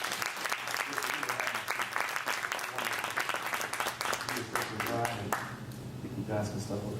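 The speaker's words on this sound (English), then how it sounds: "Clap your hands for the bishop." A church congregation claps for a bishop at a marriage vow renewal: dense, steady applause that carries on for several seconds and thins toward the end, with voices mixed in.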